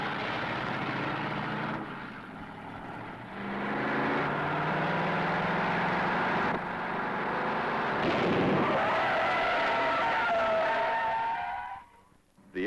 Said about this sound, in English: Tony Tiger challenged me to a panic brake stop